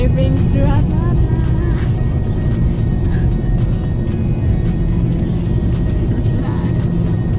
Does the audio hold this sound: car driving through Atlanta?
yes